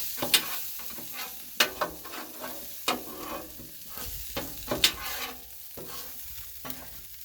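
An egg mixture fries on a Blackstone griddle. A metal spatula scrapes and taps the flat-top in irregular close strokes over a soft continuous sizzle, with no voices.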